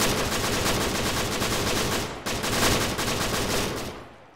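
Heavy sustained gunfire in a military shooter game, loud overlapping automatic bursts forming a dense continuous roar with a brief dip midway before trailing off at the end.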